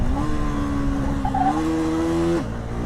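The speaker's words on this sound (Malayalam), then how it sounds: "ആറാമത്തെ ഗിയറിൽ നിന്ന് ഞാൻ ഫസ്റ്റ് ഗിയറിലോട്ട് ഇറക്കുമ്പോൾ ഇട്ടതാ" Husqvarna Vitpilen 250 motorcycle downshifting from sixth to first gear: a steady, close engine drone whose pitch climbs in steps, then drops abruptly near the end. No voices.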